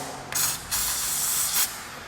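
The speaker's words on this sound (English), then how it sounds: "just spray the outside of the hose with a little silicone spray" Silicone spray lubricant is sprayed onto the outside of a rubber hose during a Honda J-series V6 valve adjustment, producing two close, steady aerosol hisses, a short one then a longer one, with no talk.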